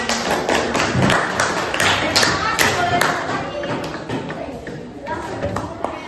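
Children in a classroom clap in a quick, uneven run of crisp claps with some thumps, voices talking and calling out over the clapping before it thins out.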